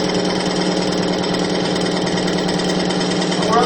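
Extreme pressure lubricant test machine running under heavy load, about 250 pounds of weight applied, gives a steady, loud mechanical drone with a constant grinding hum that holds unchanged throughout.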